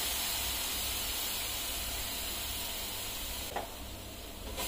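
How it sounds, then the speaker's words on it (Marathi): A rava and coconut modak mixture with condensed milk sautés in a pan, giving a steady, soft sizzling hiss throughout, with a brief stirring scrape near the end. "आता त्यामध्ये पाव कप कंडेन्स मिल्क टाकून घ्यायचा।"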